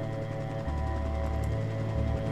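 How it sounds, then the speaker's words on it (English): Helicopter passing over in the zombie survival game Project Zomboid, a steady low rotor drone that thickens and pulses partway through, heard alone without talk. "That's the sound of a helicopter."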